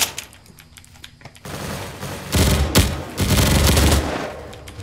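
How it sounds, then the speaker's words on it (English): Video game gunfire aimed at mall security during a raid event, loud bursts of rapid automatic shots that swell in the second half and run continuously, dense and close. "Keep shooting the mall security"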